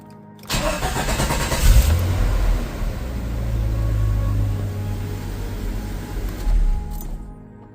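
A 1989 Jeep Comanche Eliminator engine cranks and catches, then settles into a steady mid-pitched idle with a brief rev near the end before cutting off, heard close and alone.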